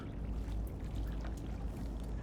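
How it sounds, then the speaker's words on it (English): Footsteps wading through ankle-deep water in Dishonored 2, a continuous close sloshing and pouring wash of water, fairly quiet, with no talking. "In ankle-deep water."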